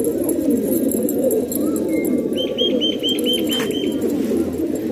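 Pigeons coo in a close setup of fancy pigeons, soft throaty calls over a constant low hum, with a short run of rapid chirps near the end.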